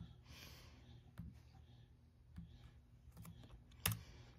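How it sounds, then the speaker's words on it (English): Someone types on a computer keyboard, a faint, sparse patter of keystrokes with a few sharper clicks and one loud tap near the end, set against quiet room noise. "I gotta go through it by typing it in."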